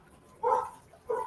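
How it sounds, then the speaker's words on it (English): A dog next door gives two short barks, muffled and moderately loud, with a brief pause between them. "I can hear a dog."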